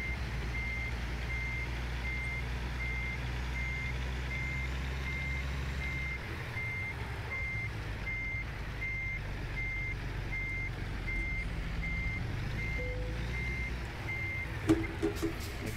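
Truck reversing alarm from a video game, beeping steadily and evenly for the whole stretch while a trailer is backed, with a low engine rumble that drops away partway through and no talking.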